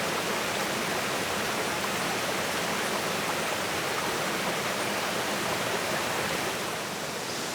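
A waterfall in the Ecuadorian jungle roars in a constant, dense rush of falling water, loud and close, unbroken for the whole stretch with no voices.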